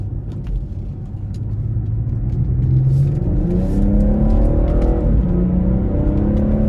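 A 2018 BMW 440i Gran Coupe in sport plus mode with paddle shifters accelerates hard, its loud, close engine note climbing in pitch and dropping at a couple of quick gear shifts, with no talking.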